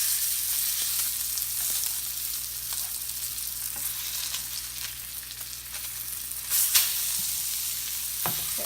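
Salmon fillet frying in butter in a pan, a loud, continuous close sizzle with a brief clatter and scrape as it is flipped, then the sizzle carrying on.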